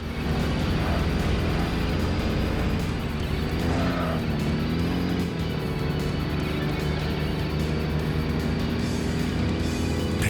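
A Legacy wagon racing in Tokyo Xtreme Racer Zero, its engine droning loud and steady throughout, with a brief rise and fall in pitch partway through as it shifts or changes speed.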